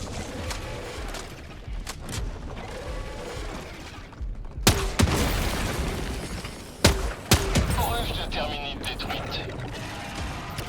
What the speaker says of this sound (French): Chargeur vide. Je recharge.